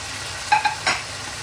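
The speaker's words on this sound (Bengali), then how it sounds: "চিংড়িটা আমি একটু কিছুক্ষণ কষাবো" Large prawns cook in hot spiced oil with a low, steady background sizzle, broken by two or three quick clinks of a utensil against the pan. No one speaks.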